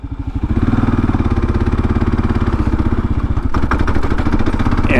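A Kawasaki KLR 650 motorcycle idles close by at a stop, its single-cylinder engine thumping in a steady, uneven rhythm with loud sputtering pulses and a slight rise in pace near the end.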